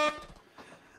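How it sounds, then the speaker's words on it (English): An air horn blast played as a sound effect during a Minecraft livestream: one short loud tonal honk, then quieter background noise. "I'll give you a little air horn as well."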